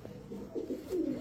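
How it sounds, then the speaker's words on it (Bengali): A Jameson-bloodline long-distance racing pigeon coos up close in a few soft, low, rolling notes, rising slightly toward the end. "এটা কবুতর ভাই"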